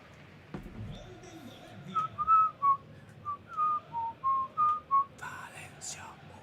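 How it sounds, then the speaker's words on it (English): A referee's whistle sounds in the FC 26 football video game, a run of short shrill blasts in an even rhythm over soft crowd ambience, ending in a brief burst of noise. "the final whistle goes not long after"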